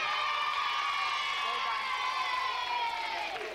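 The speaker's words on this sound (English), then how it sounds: "So give them another round of applause." A television studio audience cheers and claps in a steady, dense wash of noise that fades slightly at the end, with a voice speaking over it.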